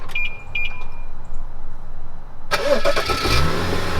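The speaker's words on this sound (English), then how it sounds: "the car is started. I'm outside of it, and it was started using the factory key fob" A BMW is remote-started with its factory key fob outdoors in winter: a few short electronic beeps, a quiet pause, then the engine cranks and catches into a steady idle.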